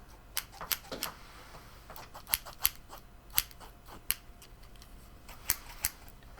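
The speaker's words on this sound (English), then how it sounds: "I have my scissors" Quiet, sharp snips of scissors cutting fabric sound at irregular intervals, some in quick pairs, close by against a faint, still background.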